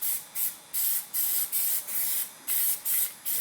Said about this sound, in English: This stuff actually sprays the easiest of all the colors.